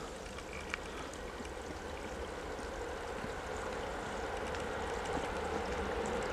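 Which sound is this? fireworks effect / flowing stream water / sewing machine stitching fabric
flowing stream water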